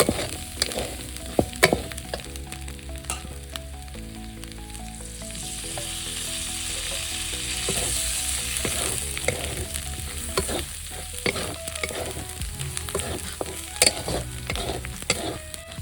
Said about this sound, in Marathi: आता मसाला भाजून घ्यायचा चांगला.